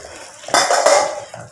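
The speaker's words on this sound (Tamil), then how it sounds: "இப்போ மூடியை திறந்து பார்ப்போம், கீரை வந்துருச்சான்னு பார்ப்போம்." A metal lid lifted off a cooking pot of agathi keerai (August tree leaves) simmering for sothi, giving a short clattering clank of metal on metal, close and moderately loud, then a faint rattle.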